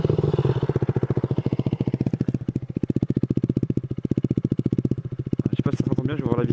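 A 2016 KTM Duke 125 motorcycle with a modified exhaust idles close by, its single-cylinder engine thumping in a steady, fast, loud pulse throughout, with a faint voice near the end.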